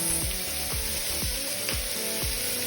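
Bottle gourd pieces sizzling in a preheated pan, a loud continuous hiss with a regular rhythmic knocking beneath it, close and steady throughout.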